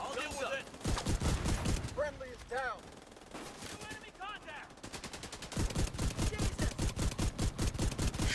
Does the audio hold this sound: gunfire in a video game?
yes